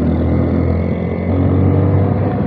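A vehicle overtaking on a rural road between Bojonegoro and Nganjuk, heard as a close, loud, steady engine drone and road rumble that holds evenly throughout, with no talk.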